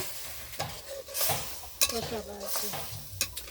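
Ridge gourd with prawns and crab is stirred in a frying pan, with irregular spoon scrapes and clinks over a soft sizzle.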